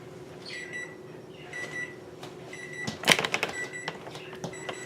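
A microwave oven hums steadily while finishing an ice cream sandwich mixture, a close, continuous drone with a few faint beeps and a brief clatter partway through.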